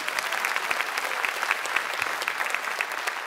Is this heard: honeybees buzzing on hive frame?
no